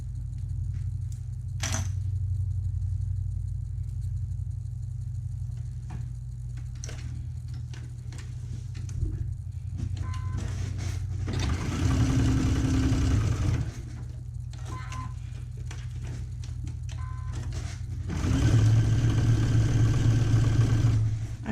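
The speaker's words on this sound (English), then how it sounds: "So now I can go ahead and close it up, sew the elastic together." A sewing machine stitches elastic together for a small child's garment, with two short bursts of rapid mechanical whirring over a steady low background hum.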